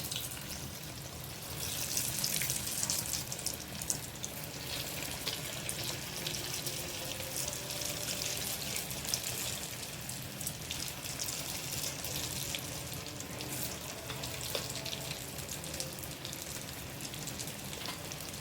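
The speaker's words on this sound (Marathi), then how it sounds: "तेल आपलं चांगलं तापलं आहे त्यात आता भजी सोडूया एक एक" Moong dal bhaji fritters fry in hot oil, a steady, dense sizzling and crackling hiss that rises after the start and continues evenly throughout, with no speech.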